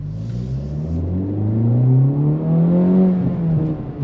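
A Honda Civic Type R FL5 with a titanium exhaust revs near and loud, its engine note climbing steadily in pitch for about three seconds before easing off, with no talk over it.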